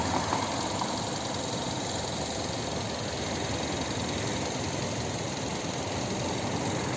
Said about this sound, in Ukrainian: Послухайте, як працює цей японський двигун.